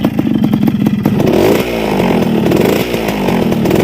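Yamaha RXK motorcycle engine with a newly replaced genuine piston ring, revving loudly and close in a rough two-stroke rasp, with rises and falls in pitch across the clip and no voices.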